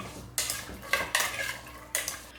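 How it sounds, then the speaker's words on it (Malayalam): A spoon scrapes and clanks against a metal pressure cooker while Chinese potatoes are stirred with water and salt: four distinct close metallic strokes in quick succession, each with a bright ringing scrape, with no talk. "നല്ലപോലെ ഒന്ന് ഇളക്കി കൊടുക്കാം."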